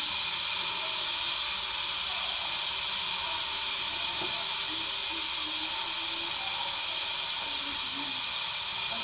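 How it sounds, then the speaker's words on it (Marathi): A pressure cooker of potatoes hisses with steady, loud steam that goes on unbroken the whole time, with no talking over it. "साईड बाय साईड वरून बटाटा कुकर लावला"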